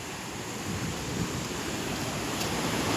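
Sea waves washing on a beach at Mangalore, Karnataka, a steady, fairly faint broadband wash mixed with wind, with no voices.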